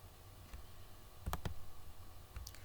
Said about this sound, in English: Okay, let me click on it.